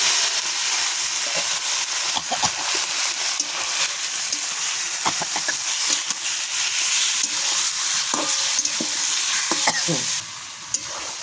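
Marinated fish fries in hot oil with ground cumin and green chillies, a loud, continuous close sizzle with scattered scraping and stirring clicks throughout.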